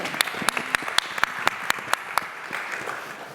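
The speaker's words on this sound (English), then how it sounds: "Give her a round of applause" Audience applause after a meditation practitioner is honored, a steady wash of clapping with several sharper individual claps standing out near the front, filling the whole stretch at moderate loudness.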